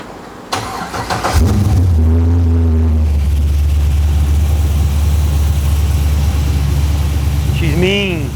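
1969 Chevrolet Camaro with a custom grill, its engine cranking and catching, then settling into a loud, steady, rumbling idle close by, with a brief squeal near the end.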